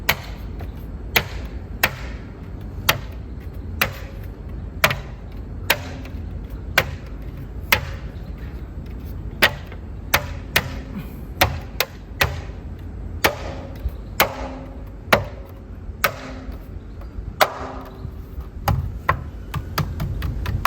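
A plastic wheel cover is pressed onto a Tesla Model 3 wheel, giving a series of sharp close clicks and thumps at irregular intervals, roughly one every second, over a low background rumble without talk.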